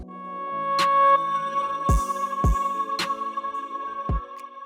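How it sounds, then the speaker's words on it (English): A drum transition from the Producer Ground drum kit rings with sustained tonal layers while several deep, punchy hits land at uneven intervals, loud and up front with no voices. "then we have a transition from the producer ground drum kit"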